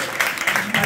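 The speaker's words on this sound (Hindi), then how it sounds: "एक जोरदार ताली मारो" A church congregation gives a loud burst of clapping applause for a former contractor turned believer, the dense clatter of many hands filling the short moment with some voices mixed in.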